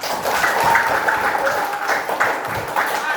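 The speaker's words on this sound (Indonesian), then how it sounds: "Tepuk tangan." A primary school class claps hands together in a steady, sustained burst, fairly loud and close, with some voices mixed in.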